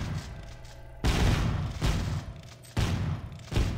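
Enemy gunfire in System Shock Infinite, heavy booming bursts that arrive in several loud, close volleys separated by brief quieter gaps.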